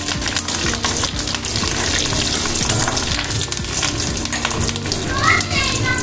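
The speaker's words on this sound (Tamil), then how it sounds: "காஞ்ச மிளகா கொஞ்சம் பொரிஞ்சிடணும்" Dried red chillies frying in oil for tempering, a steady dense sizzle and crackle heard up close and fairly loud from start to finish, with occasional stirring clatter.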